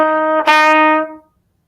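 A wind instrument, likely a trumpet or similar brass horn, plays sustained tones with a brief articulated break partway through, then rings out and stops; loud and close, no talking.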